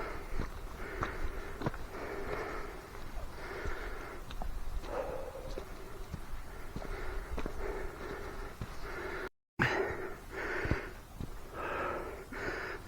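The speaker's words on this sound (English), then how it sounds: "Excuse the heavy breathing, it's getting quite steep here." Heavy, labored breathing from someone climbing a steep, slippery coastal path at Tarlair, steady huffs close to the mic with occasional footsteps and a brief cut partway through.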